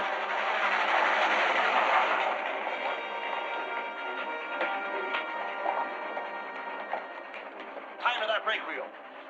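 Rumbling train noise from a 1952 film with a steady rolling roar and faint rhythmic clatter, fading slightly midway, with a brief sharper burst near the end.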